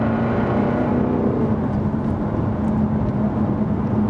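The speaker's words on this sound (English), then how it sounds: "you hear your own sound with this car, just from the engine and the exhaust" A Jaguar F-TYPE SVR sports car engine and exhaust drone steadily and loudly from inside the cabin, a continuous low rumble with a sustained hum and no talking.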